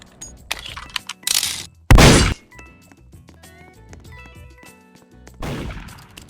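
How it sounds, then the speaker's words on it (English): Gunshots in the Roblox game Murder Mystery 2: several sharp game sound effects, with one loud close blast among smaller cracks and clicks and a second burst near the end. "When you hear the gun sound, don't panic immediately."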